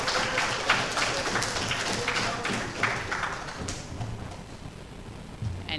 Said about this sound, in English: Some applause for the browser demo people.